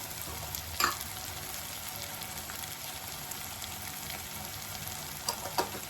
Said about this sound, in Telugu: అల్లం వెల్లుల్లి పేస్ట్ వేసుకుందామండి, 1 స్పూను. అలాగే పసుపు వేసుకుందాం.